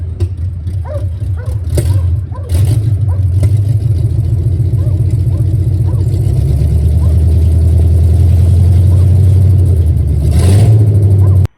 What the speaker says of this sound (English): here's what it sounds like with open headers